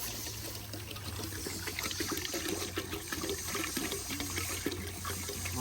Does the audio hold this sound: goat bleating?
no